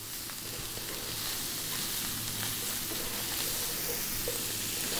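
Paneer cheese cubes dropped into a hot pan of Indian spiced sauce, giving a steady, dense sizzle and fry that holds at an even level throughout, with no voices.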